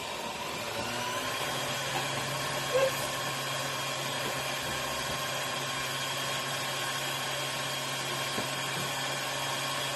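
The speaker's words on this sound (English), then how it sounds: "I'm going to put this on the mixer. It might get loud." Electric mixer running steadily, creaming eggs for an oatmeal cake, a continuous loud whirring hum that holds nearly unchanged for the whole stretch with no talking.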